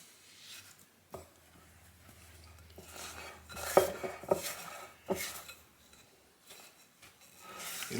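Vanilla wafer dough being worked by hand in a bowl for homemade cookies, giving soft scraping and occasional clinks of utensil against the bowl at an irregular pace, close and fairly quiet, with no talking.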